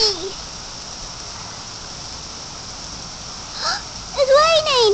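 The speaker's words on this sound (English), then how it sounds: "It's raining." Rain from an afternoon thunderstorm hisses steadily in a broad wash, with a voice briefly audible at the start and more speech near the end.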